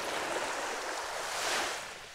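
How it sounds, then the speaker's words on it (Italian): Ocean waves wash in a soft, continuous hiss of surf, swelling slightly toward the end before easing off, with no voices. "Come eterno ci appare il movimento incessante delle onde."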